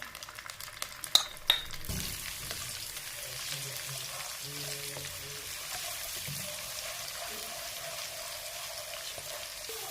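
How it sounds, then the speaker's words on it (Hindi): Whole garam masala and garlic ginger paste frying in oil for chana, a few sharp clinks at first, then a soft, steady sizzle that runs on alone. "डाला ऑयल के अंदर, अब गरम मसाला साबुत, लहसुन अदरक का पेस्ट ऐड किया हमने साथ में"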